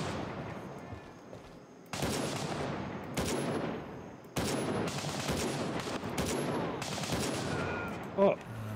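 Single-fire rifle shots in the extraction shooter Gray Zone Warfare, a handful of sharp reports spaced a second or so apart, each followed by a decaying echo, over quiet ambient background.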